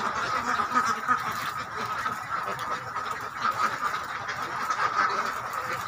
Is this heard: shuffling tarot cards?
no